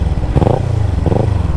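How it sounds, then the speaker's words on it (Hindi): A Kawasaki Ninja 300 fitted with a Yoshimura exhaust rumbles loud and close, idling with a deep throb and two short blips of the throttle. "अभी हम लोग निंजा चलाने वाले हैं फाइनली, निंजा 300"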